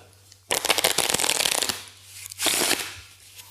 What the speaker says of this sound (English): You're going to shuffle the cards